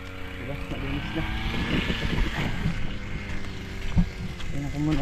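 Boat engine running steadily with a weakening, rough tone, a continuous droning hum with a slight bump near the end, heard outdoors on the water.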